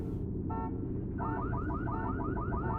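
In the video game World War 3, an alarm sounds as one short tone followed by a steady run of rapid repeating warbles. It plays over low rumbling game noise.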